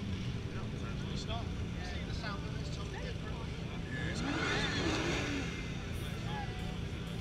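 A car engine revs at an outdoor car festival, with a steady engine roar rising in the middle amid broad crowd and outdoor noise, while people talk nearby.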